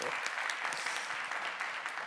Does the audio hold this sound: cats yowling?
no